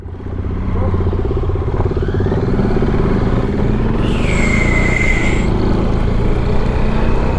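A motorcycle engine runs steadily up close after an oil bleeding job, a loud continuous throbbing rumble with a brief rising whine partway through.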